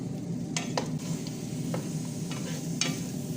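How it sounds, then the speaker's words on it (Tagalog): Meat is stirred in a cooking pot with a continuous sizzling fry underneath and occasional scraping knocks of the utensil, close and steady, with no voices. "Lagay ko itong karne. Haluin."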